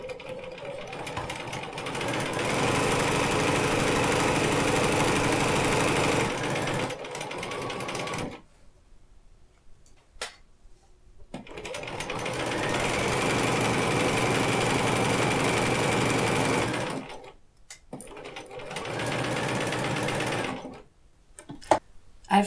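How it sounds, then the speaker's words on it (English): Sewing machine stitching a 1/4-inch seam joining two quilt pieces, running in two long steady bursts with a short stop between them and a brief third run at the end, close and mechanical with no talk. "And now we can go to the machine. Now you sew the two pieces together using a 1/4-inch seam."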